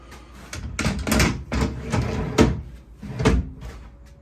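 A melamine drawer base for a boat galley is slid into place, giving a string of close wooden knocks, bumps and scrapes in an irregular rhythm, with no voices.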